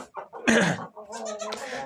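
A young lamb bleats close by, a short cry followed by a longer, wavering bleat.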